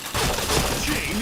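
Dense bursts of gunfire from a shooting video game, a headshot moment, crackling loud and continuous for about a second, with voices mixed in underneath.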